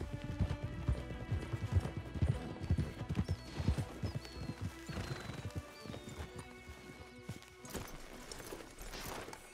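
Horses in Red Dead Redemption 2 clip-clop along in steady hoofbeats, with a whinny rising over the quiet, continuous trot.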